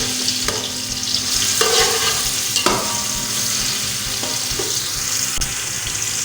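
Garlic frying in oil in a cooking pot, a steady close sizzle with occasional stirring scrapes and clinks throughout, no talking.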